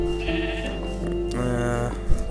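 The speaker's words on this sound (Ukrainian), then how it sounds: "Вівці, вівці, вівці, самі вівці." Sheep bleating in the video game Minecraft, a couple of wavering nasal bleats close and clear, with a low steady hum beneath and no speech.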